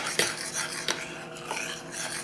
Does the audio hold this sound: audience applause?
no